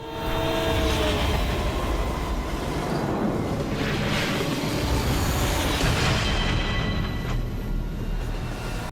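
Train running in the game Gregory Horror Show The Last Train, a dense continuous rumble and clatter that stays loud and steady throughout with a few swelling whooshes.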